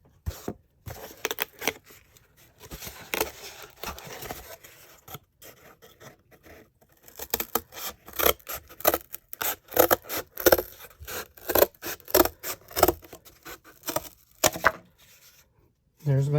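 Utility scissors snip through cardboard in a rapid run of close, crunchy cuts, pausing briefly before another steady series of chops.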